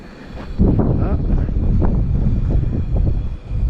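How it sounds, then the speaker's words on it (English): Wind gusting at a seaside campground, buffeting rumble and roar on the microphone that swells and dips over a few seconds. "It's windy."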